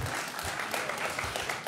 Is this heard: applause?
yes